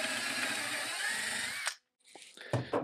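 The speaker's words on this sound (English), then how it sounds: "I've got a drill bit here that's just one size larger than what I was using." A power drill bores a slightly oversized hole for dowel pins in wooden outdoor furniture under repair: a steady, close whine for under two seconds, then it cuts off, followed by a few light clicks and knocks.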